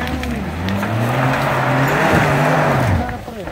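A car engine revs hard at full throttle, its pitch climbing and wavering with a tire squeal, loud and close, while people talk over it.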